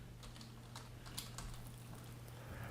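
Light keystrokes on a computer keyboard while typing a slash as a custom separator in an Excel spreadsheet, a few soft clicks scattered over a steady low hum, no talking.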